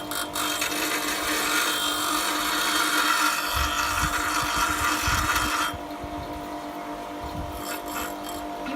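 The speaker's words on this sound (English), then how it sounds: "here I am grinding just all the misfits off the edges of the mould" Power grinder working the rough edges off a sand-cast metal piece, a loud whining, scraping buzz with bursts of rasping contact, then a lower, quieter grind in the last few seconds.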